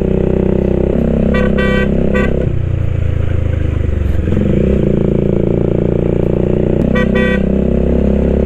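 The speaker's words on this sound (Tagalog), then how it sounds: "Busina tayo, busina." Loud vehicle horn honks in short repeated bursts over a steady engine drone, sounding close while driving along a mountain road in Aguinaldo, Ifugao.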